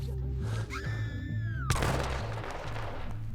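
Gunfire in Hitman Absolution: a sharp, loud shot bursts out amid a busy in-game scene with a rising whistling tone before it and a thudding rhythmic background, with a voice partly audible around it.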